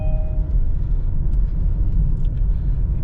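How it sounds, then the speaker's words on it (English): A 2016–2020 Kia Sorento, driven after a transmission repair, pulls away and drives with a low, steady engine and road rumble heard from inside the cabin, with a few faint clicks and rattles. "The car takes off well."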